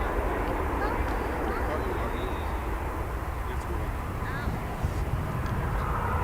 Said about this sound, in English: This here 737-800, it's on its way to Albuquerque.